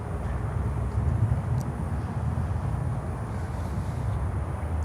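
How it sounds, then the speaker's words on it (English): A Boeing 737 MAX 8 airliner from Punta Cana, in Dominican Republic flag livery, at Miami airport, gives a steady low jet rumble with broadband roar, moderately loud and continuous with no talk. "AutoChat 737 MAX 8 from Punta Cana in the Dominican Republic flag livery."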